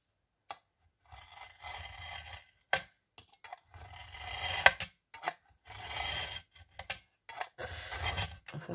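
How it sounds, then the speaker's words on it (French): A utility knife slices through paper resting on a glass plate, giving a series of short scraping cuts and rasping strokes with brief pauses between them, close and fairly quiet. "pour ça, on va attraper le cutter."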